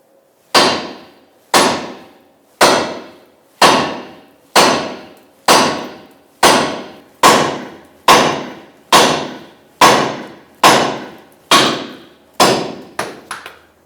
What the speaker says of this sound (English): take a sledgehammer and you want to hit square in the middle of that ball joint